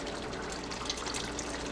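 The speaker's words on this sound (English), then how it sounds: "And I'm gonna put about 1/2 cup of water" About half a cup of water is poured into a pan of frying codfish and vegetables, giving a short, steady, close rush of liquid with no one speaking.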